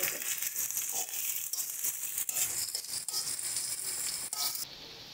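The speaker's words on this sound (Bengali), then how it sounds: "দিয়ে দিচ্ছি পেঁয়াজ কুচি। সুন্দর করে ভেজে নেবো।" Chopped onions frying in a pan for an egg omelette curry, a quiet, steady sizzle with scattered crackles and soft stirring scrapes, fading at the very end.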